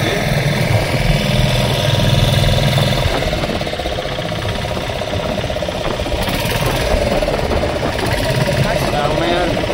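A motor boat engine hums and rattles steadily at close range throughout a ride near Pulicat's Blue Island, with someone talking over it.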